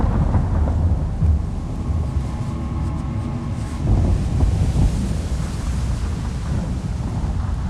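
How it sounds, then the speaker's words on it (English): A thunderstorm in the video game Mundaun: deep, broad rumbling with steady rain or wind noise throughout, swelling slightly around the middle and fading into a continuous low roar, with no talking. "Okay, the storm has passed."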